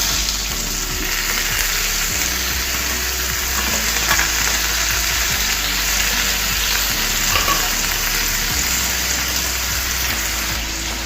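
A prepared radish curry hisses and sizzles in a hot frying pan, a loud, dense and steady frying roar that continues close up with only faint stirring clinks beneath it.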